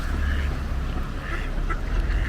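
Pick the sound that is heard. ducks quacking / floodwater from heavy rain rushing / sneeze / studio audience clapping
ducks quacking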